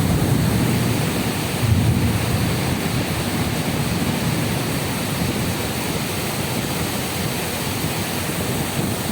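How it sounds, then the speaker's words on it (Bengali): A dense, steady roar of heavy Malaysian downpour fills the air without pause, loud and unbroken, with no voices. "প্রচুর বৃষ্টি।"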